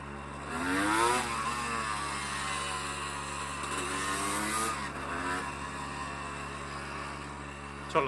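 A Honda CRM 250 AR two-stroke motorcycle engine revs up and down in rising and falling pitch sweeps, loud and close, buzzing steadily for several seconds with no talking.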